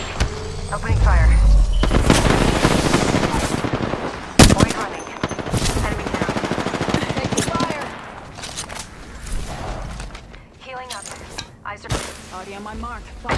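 Video game gunfire with rapid automatic bursts and sharp single shots, up close and loud, mixed with explosions, under near-constant voiced game callouts.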